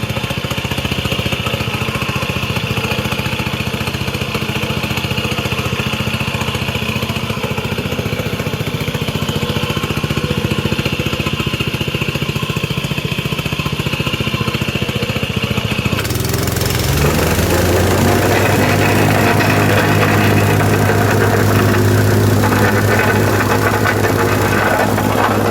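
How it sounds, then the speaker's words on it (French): A petrol plate compactor engine idles roughly, then revs up to a louder, steady running drone, close and continuous with no talk. "tu lèves le starter et ça démarre"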